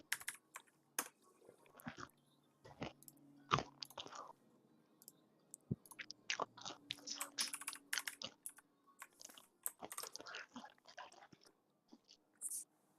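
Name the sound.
loud chewing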